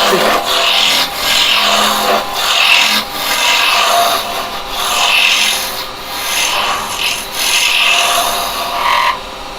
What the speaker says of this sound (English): I'd rather just come in with me roughing gouge